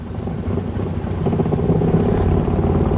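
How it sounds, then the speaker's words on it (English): An NSU Prinz 4 engine shudders into life after a dynastart key start, settling quickly into a loud, close, steady low rumbling idle with a rapid mechanical pulse that holds to the end. "And the engine shudders into life"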